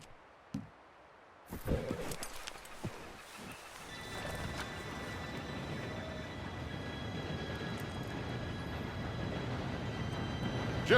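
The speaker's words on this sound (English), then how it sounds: "Train should be here any minute now." A steam train rolls in during a scene in the video game Red Dead Redemption 2, a steady mechanical rumble that builds and holds, with horse hooves clopping nearby and no one talking.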